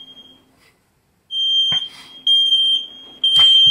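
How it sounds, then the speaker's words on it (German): A smoke detector goes off, sounding loud, piercing high beeps in repeated long pulses separated by short gaps, with a few thumps and clatter mixed in. "Dann geht nämlich gleich der Feuermelder los."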